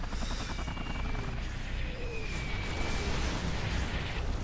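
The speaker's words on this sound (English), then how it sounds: "Artillery barrage from Emin." Artillery barrage explosions in the real-time strategy game Rise of the Reds: a dense, continuous rumbling roar of blasts and booms at a steady, loud level throughout, with no talking.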